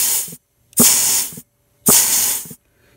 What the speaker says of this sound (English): if we put compressed air right into this hole right here, we should be able to see that low reverse clutch pack apply